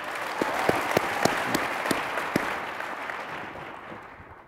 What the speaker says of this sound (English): Let's do with a clap.